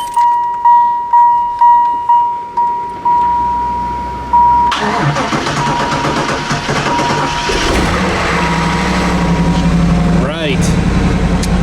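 A Chevrolet Camaro's starter cranks in a repeated rhythmic whir with a high electronic chime, then the engine catches and settles into a loud, steady idle up close, with a brief spoken word over it.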